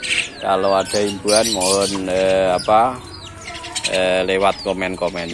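Jalak birds, a kind of starling or myna, some able to mimic speech, give loud, close, whistly calls in repeated bursts. Someone talks between and over the calls.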